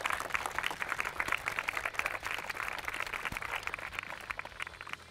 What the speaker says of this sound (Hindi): तालियों के साथ गौरव इदूरी का स्वागत करें